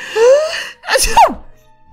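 A single voice performs a theatrical sneeze, a rising drawn-out wail followed by a sharp burst, loud and close, with no other sounds around it.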